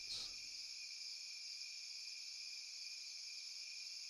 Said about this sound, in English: You can hear various forest sounds, of animals, of insects.